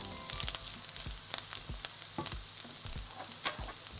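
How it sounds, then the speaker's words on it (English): Diced onion frying in olive oil in a large frying pan over medium heat, a soft steady sizzle with scattered crackles and the occasional scrape of stirring, close but quiet, with no talking. "Heat 1 tablespoon of olive oil in a large frying pan. Add in a large diced onion and fry for 6 to 8 minutes on a medium heat"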